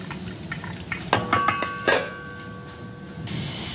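Water poured off a steel pot past a tilted lid or plate, with metallic clinks and scraping, then a short trickling splash and light handling noises, fairly quiet with no talk.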